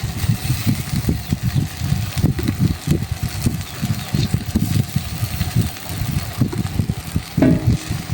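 Kochu flower curry stirred in a pan over heat with lemon juice added, giving a steady low sizzle with repeated scraping and stirring strokes throughout, no voices.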